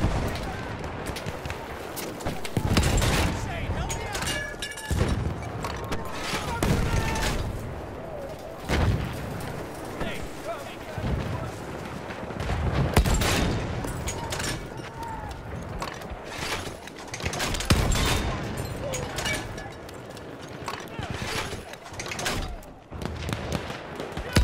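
Machine gun fire and explosions rattle through a Battlefield 1 battle, repeated bursts and heavy booms spread across a long stretch, with game voices shouting over the din.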